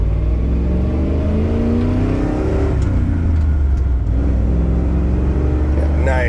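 A Ford EFI 460 V8 with a stage 3 cam runs in a shop, its steady deep rumble rising and dipping with light throttle blips while someone talks over it.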